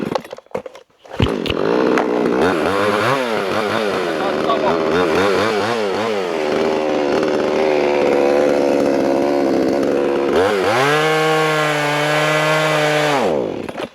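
A Vevor 62cc chainsaw roars loudly and continuously, its pitch rising and falling as it bites into wood, then revving high and steady near the end.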